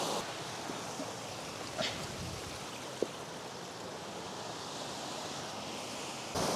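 A hidden waterfall among limestone rocks on a wild-camping trek pours steadily, producing a constant broad rushing wash with no clear breaks. A couple of faint knocks sit underneath, and no one speaks.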